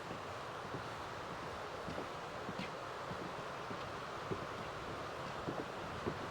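Faint, steady wind rushes across the microphone at a beach on a winter day. It forms a soft, continuous wash with slight rustling and a few small bumps, and no one speaks.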